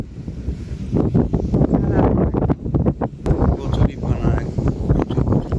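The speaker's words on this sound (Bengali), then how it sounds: "প্রচুর বাতাস," Strong wind buffets the microphone in gusty roars on a boat out on a dark-watered wetland lake near a small bridge. Voices talk through the noise.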